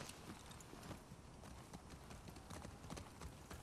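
Horse hooves clip-clop steadily on pavement in a video game set in downtown Seattle, a brisk, even walking rhythm, fairly close and continuous with faint ambient background.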